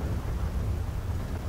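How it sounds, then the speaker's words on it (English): Steady heavy rain in the Highlife RP game, a dense, even rumbling wash with no breaks across the brief moment. "Wow, that rain."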